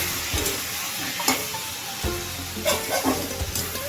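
Chicken pieces fry in a pan for kasundi chicken, with a steady close sizzle and hiss broken by a few short scraping stirs.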